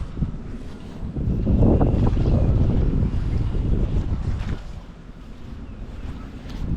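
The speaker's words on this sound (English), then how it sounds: "this water's really running pretty darn well right now" A stream swollen after rain rushes steadily along outdoors on a quiet morning, a loud, continuous broadband wash of water mixed with gusty wind buffeting the microphone.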